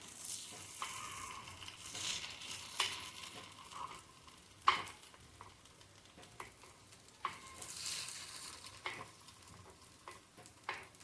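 Ponganalu sizzle and fry in a non-stick pan, a steady crackling hiss broken by a few sharp scrapes and clicks of a spoon stirring and turning them.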